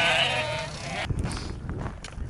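Sheep bleating on open farmland along a hill walk, a loud close bleat at the start giving way to quieter rustling and faint farm sounds.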